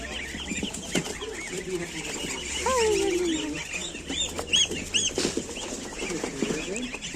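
Busy outdoor market in Cherkasy where ducklings and hens are sold, with bird calls, flapping and clucking scattered among crowd noise and nearby talk.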